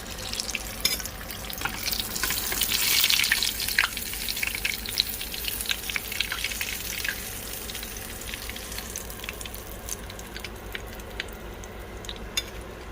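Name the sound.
fish pieces frying in oil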